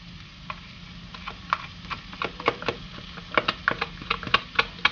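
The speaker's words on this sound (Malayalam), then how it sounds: "ഇതിലേക്ക് നമ്മൾ അരച്ച് വെച്ചേക്കുന്ന തേങ്ങയും നമ്മുടെ പെരിഞ്ചീരകവും ഇതിലേക്ക് മിക്സ് ചെയ്യുക." Ground coconut and fennel stirred into a tomato masala for Malabar fish curry, with a spoon tapping and scraping the pan in quick, irregular clicks that grow busier over a low hiss.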